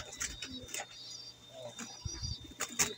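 A red male pigeon with a big, strong body coos softly in short, low phrases, mixed with other bird sounds and faint background noise.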